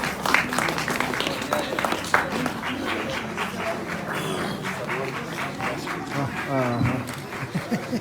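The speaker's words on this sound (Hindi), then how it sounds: "तालियां बजाने में कंजूसी ना करें आप" An audience at a school annual day celebration in Kargil applauds continuously in a steady wash of clapping, with voices and crowd noise mixed underneath.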